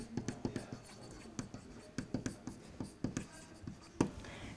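A pen writes labels on a bar chart during a maths lesson, making quick, close scratchy strokes and taps in irregular bursts with short pauses between them.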